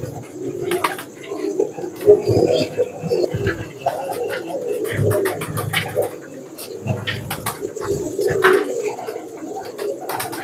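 A male red fanier pigeon coos in low, soft, throaty repeated calls, close by, with some faint rustling and a few light chirps in the background.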